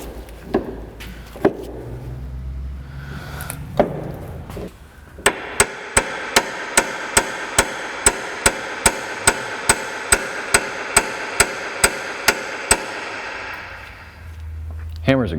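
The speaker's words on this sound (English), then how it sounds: "No, hammers are awesome." Metal hammer striking a part on a 1998 Chrysler Town & Country during a transmission and radiator repair: about twenty sharp, ringing blows in a steady rhythm, close and loud, after some earlier scattered clanks and brief talk.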